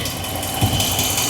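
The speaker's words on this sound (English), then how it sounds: "Let's try revving it up." Rebuilt 5.7-liter V8 in a 2009 Ram truck running up close, a steady mechanical drone with a ticking knock and a small rise in revs partway through.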